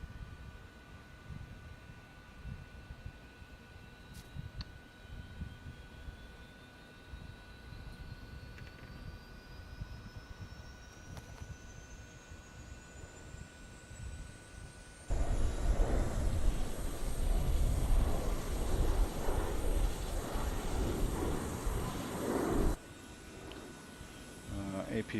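A Transall C160 auxiliary power unit spools up in Microsoft Flight Simulator, a steady turbine whine rising gradually in pitch, then a louder, fuller roar that holds for several seconds before easing back down.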